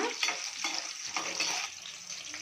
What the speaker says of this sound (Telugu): కొంచెం పల్లీలు పల్లీలు కూడా ఒక నిమిషం వేగినాక